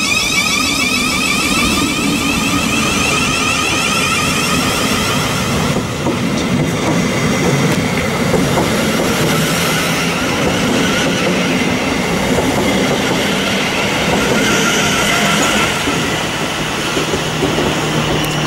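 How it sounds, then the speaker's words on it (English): A Thameslink Class 700 passenger train rolls steadily past up close through Preston Park station, wheels clattering and squealing against the rails for the whole stretch, loud and continuous. "It's a cute train, yay!"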